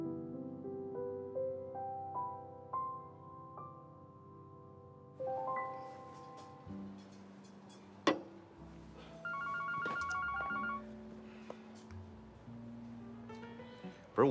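A telephone rings in an indoor scene from a Chinese TV drama: a short, repeating electronic ringtone pattern over quiet background music, with a sharp knock-like sound near the end.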